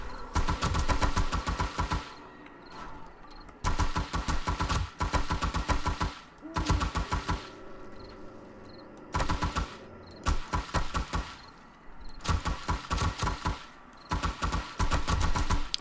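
Gunfire rattles in long automatic bursts during horde night in 7 Days to Die, loud and close, several sustained volleys separated by short pauses across the whole stretch.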